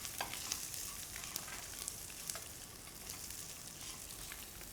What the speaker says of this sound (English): Would lightly saute the cashew